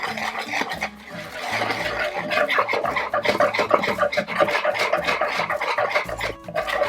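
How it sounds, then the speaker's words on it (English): Vegetable oil being whisked into pumpkin cheesecake bread batter, a steady, dense scraping and rubbing of the whisk against the bowl that keeps going without a break and stays close. "Add half a cup of vegetable oil. Now just whisk it all in."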